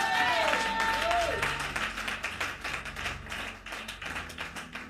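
Church congregation applauding during a sermon, a dense burst of clapping that thins into scattered claps over a few seconds, with voices and a brief tone heard early on.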